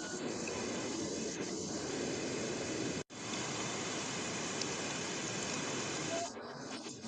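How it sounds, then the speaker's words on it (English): Rain begins falling on a roadside where a MAN truck with a lowbed trailer is being moved, making a steady broadband hiss that stays even throughout, briefly cut once and then easing near the end. "The conditions at the scene are currently starting to rain, friends."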